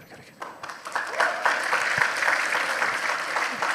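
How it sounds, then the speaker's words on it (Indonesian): Students at Unitomo university clap together in a hall, a dense wash of applause that swells after a quiet start and holds steady at a fair distance, with a few voices faintly underneath. "jangan tepuk tangan aja loh bro"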